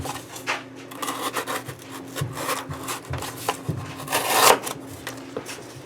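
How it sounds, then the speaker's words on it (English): A sharpened Summit Knife Company Half-Dome knife slices through cardboard in a run of dry, scratchy cutting strokes, close and moderately loud, with the harshest rasping swipe near the end. "So it should slice through cardboard fairly easily."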